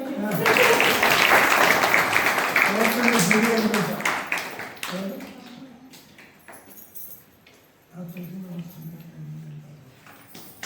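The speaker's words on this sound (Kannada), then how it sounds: "ಇನ್ನೊಂದ್ಸಲ ಚಪ್ಪಾಳೆ" Loud crowd applause with voices mixed in at a women's wing inauguration event fades after a few seconds, then a quieter stretch of talk and a short, softer return of clapping.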